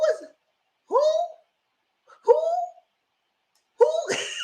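A voice imitates an owl hoot, giving four short, drawn-out hooting calls separated by pauses, loud and close, with a higher squeal at the end.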